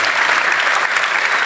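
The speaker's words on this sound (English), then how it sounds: "thank you so much for a round of applause to Bear Grylls" Loud, dense applause from an audience at an event for adventurer Bear Grylls, a steady close wash of many hands clapping in a brief burst.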